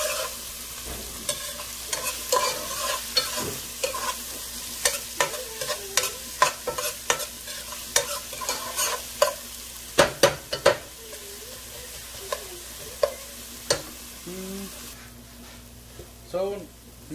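Onions stirred and sautéed in a pan for arroz con gandules, a steady low sizzle under frequent sharp scrapes and clinks of a utensil against the pan, close up, with no talk.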